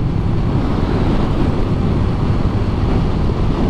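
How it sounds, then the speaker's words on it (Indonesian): Strong coastal wind buffets a motorcyclist riding near the sea on the Padang to Bengkulu route in Mukomuko, heard as a loud, steady roar of wind noise with no pauses, probably striking the microphone. "Tapi angin sangat kencang sini. Sangat kencang sekali anginnya itu."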